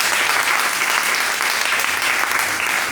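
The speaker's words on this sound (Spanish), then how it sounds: "Hay una aplauso al Señor" A church congregation claps together in continuous, even applause, a broad wash of many hands at moderate loudness with no clear speech on top.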